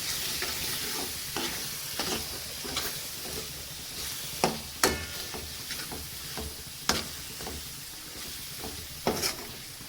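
Dry spices are stirred into an onion and tomato masala frying in oil. A quiet sizzle runs under repeated scraping strokes and sharp spatula knocks against the pan, close and without talking.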